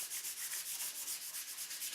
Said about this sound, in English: I then gave it a thorough sanding and checked the fit.